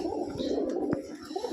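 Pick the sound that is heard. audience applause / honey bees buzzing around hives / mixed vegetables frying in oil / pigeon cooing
pigeon cooing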